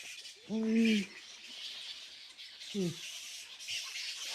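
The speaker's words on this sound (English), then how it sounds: "Why is there so many bats and birds?" Bird calls ring out in two short bursts of cooing, whistled chirps, separated by quieter rustling background noise, fairly close.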